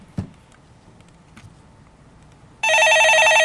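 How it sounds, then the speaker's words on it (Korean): A telephone in a stock-market call-in broadcast studio bursts into a loud, continuous electronic ring after a quiet stretch with a couple of faint clicks. "전화 받아보겠습니다."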